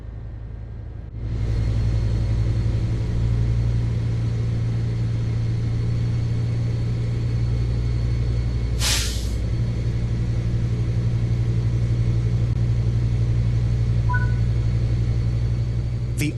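A locomotive in Train Sim World 4 starts up under light throttle, a steady low engine drone and rumble that fades in and holds. A brief bright hiss and faint beeps sound over it, with no talk.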